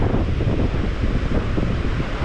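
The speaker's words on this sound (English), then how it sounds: "There's a bit of swell, a little bit of surf, a little bit of turbulence in the water." Steady sea surf and waves roll on a fishing beach with a bit of swell, a dense continuous wash mixed with wind buffeting the microphone, loud and close, with no voices.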